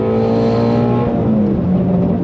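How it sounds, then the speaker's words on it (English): A 2024 Ford Mustang Dark Horse's Voodoo V8 with a Tremec 6-speed manual revs hard under throttle, a loud sustained engine roar with rising harmonic tones, close and with no talking. "I love the sound of the Voodoo engine."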